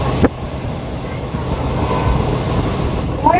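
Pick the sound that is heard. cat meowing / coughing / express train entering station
express train entering station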